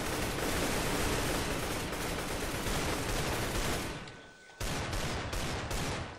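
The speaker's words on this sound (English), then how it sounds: "why is there so much freaking gunfire?" Dense, continuous gunfire from the Minecraft Minestrike game mode, a loud barrage of rapid shots that briefly dips before resuming with sharp bursts.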